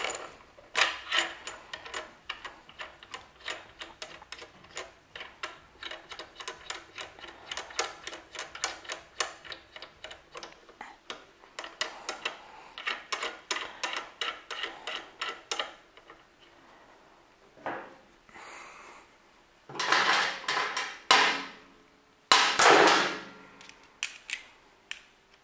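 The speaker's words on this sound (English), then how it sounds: "fix the screws with the OEM Torque wrench" Screws on a BMW S1000RR brake caliper being tightened with an OEM torque wrench, giving rapid, steady ratchet clicks close by for the first fifteen seconds, then scattered louder handling clatters and bursts, with no talking.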